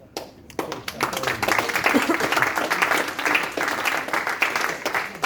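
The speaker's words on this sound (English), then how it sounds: "The more applause to come." Audience applause at a presidential news address, sustained clapping from a crowd rising quickly and holding steady for several seconds, fairly near and alone.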